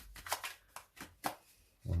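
Rider-Waite tarot cards are shuffled by hand in a few quick riffling bursts separated by short pauses, close and fairly quiet, followed by a brief low murmur at the end.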